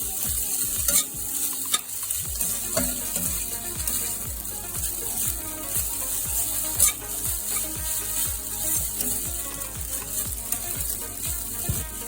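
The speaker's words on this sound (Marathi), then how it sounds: "त्यानंतर ते राईस मस्त मिक्स करून घेऊया." Cooked rice tossed with butter in a pan for a masala broccoli dinner, a spoon scraping and stirring in a steady, repeated rhythm over a light sizzle, close and clear.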